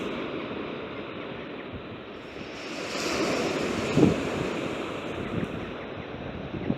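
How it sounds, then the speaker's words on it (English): Sea waves break and surge along the Mid Wales coast in a steady roaring wash, swelling louder midway, with gusty wind buffeting the microphone. "Look at those waves."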